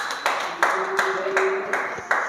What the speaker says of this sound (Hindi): ताली बजेगी एक बार उनके लिए भी।